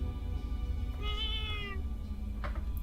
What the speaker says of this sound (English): there's where the cat's at